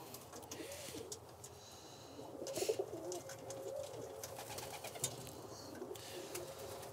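Birmingham Roller pigeons coo softly and repeatedly, low rolling calls close by, with faint rustling in a quiet room.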